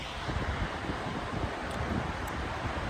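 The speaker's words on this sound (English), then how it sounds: "I'm using a fan right now." Electric fan blowing air in a room, a steady broadband whoosh with slight buffeting, close to the microphone and constant throughout.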